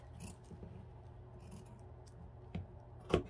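Close, quiet snips of scissors cutting fabric, a couple of crisp sharp cuts near the end over a low steady hum.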